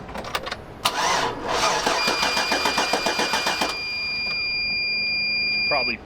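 A Sierra SS pickup truck with a nearly dead battery cranks in a rapid rhythmic chug for a couple of seconds, then catches and settles into a steady idle, close by, with a voice briefly heard at the start.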